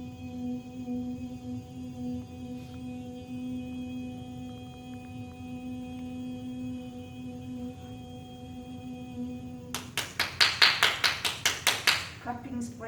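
Hands clapping in a quick burst of about a dozen sharp claps, close and loud, following a long stretch of quiet room hum.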